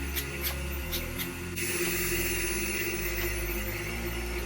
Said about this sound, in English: I'm going to spray this on the whole section.